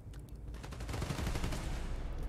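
Rapid gunfire in the video game Marvel's Spider-Man: Miles Morales, a dense burst of automatic shots building louder over a couple of seconds, heard without talk.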